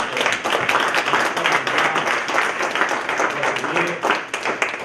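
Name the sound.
audience applause for panelists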